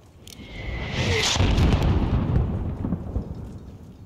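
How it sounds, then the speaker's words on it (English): Mortar fire in a military video game lands as a deep, rolling boom that swells and rumbles for several seconds, preceded by a brief high whine, with no voices. "There's still a mortar out there."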